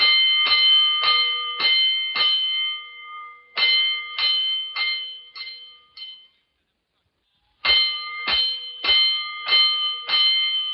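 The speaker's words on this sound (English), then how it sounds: "join Chief Cody as he rolls in his car to answer an alarm" Fire alarm bell in a 1949 city fire department radio drama, ringing in loud rapid bursts of clanging strokes, a pause of silence, then another burst, with no talk.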